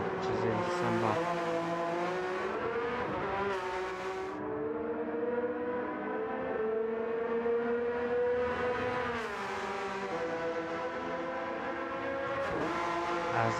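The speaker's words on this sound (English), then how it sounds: "As the cars come on through" Endurance race cars at Le Mans roar past one after another in a bunch, loud engine notes rising and falling as each car approaches and pulls away, with crowd or commentary sounds faint underneath.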